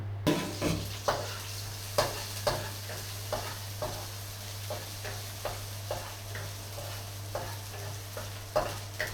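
Dried shrimp stir-fried in a pan, a spatula scraping and tapping in a repeated rhythm over a faint continuous sizzle, close and fairly quiet.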